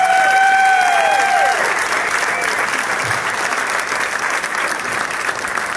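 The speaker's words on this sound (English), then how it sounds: "Everybody give them a round of applause," Audience applause for drag racing honorees at a PRI live unveiling event, a dense, steady clatter of clapping from a crowd that holds throughout, with a voice briefly heard over the start.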